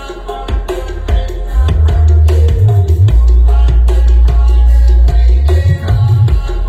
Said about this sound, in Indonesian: Oke, kita buka subwoofernya.